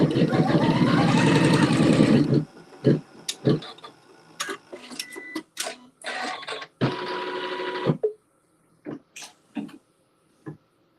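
A sewing machine stitches a tack down along a quilt seam, a dense steady run of needle strokes for about two seconds, followed by short separate bursts of stitching and clicks with pauses between them.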